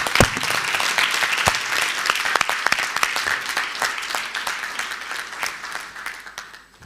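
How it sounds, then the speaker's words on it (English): An audience at a debate claps in a dense, sustained round of applause that stays loud and steady, then gradually thins and fades toward the end. "a big round of applause one more time."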